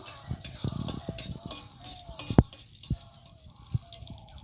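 Garlic fries in a pan with a light sizzle broken by scattered pops, taps and stirring knocks, close and moderately loud, with occasional faint voice in the background.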